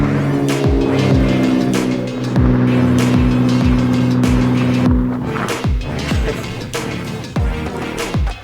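A car passes close by on a road, its engine a loud, steady hum with a faint rhythmic ticking running through the sound.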